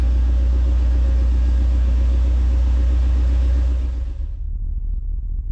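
A 1989 Dodge R3500 truck engine runs steadily right after starting, a loud, close, low rumbling idle that holds for several seconds before abruptly cutting to a quieter background.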